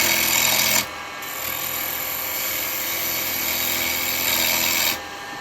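A carbide chisel with a negative rake cutter shaves very old, dry pine spinning on a wood lathe, giving a loud, steady, rough cutting roar that drops briefly, resumes for a few seconds, then eases off, with no voices.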